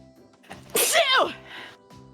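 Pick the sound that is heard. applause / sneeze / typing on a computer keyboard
sneeze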